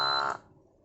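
A tonal buzzer on an ESP32 fire alarm circuit sounds as one short, loud, steady beep that cuts off abruptly after about a third of a second, leaving faint room noise.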